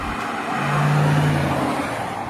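A V8 rear-wheel-drive car of more than 280 horsepower drives along, its engine holding a steady drone that rises briefly under throttle and then eases. The sound is close and has no talk over it.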